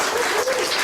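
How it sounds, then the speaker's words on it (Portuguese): A church congregation applauding, a dense, sustained burst of many people clapping heard briefly, with a faint voice rising within it. "Vamos aplaudir o nome de Jesus."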